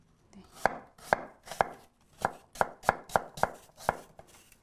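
A knife chops peeled apple on a cutting board, about nine crisp, evenly spaced cuts in a steady rhythm, close and clear with no talking.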